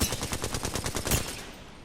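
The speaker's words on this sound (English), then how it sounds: "I ended up firing at Crypto" Rapid automatic gunfire in Apex Legends, a dense sustained burst of close shots with one sharper crack near the end before the firing trails off.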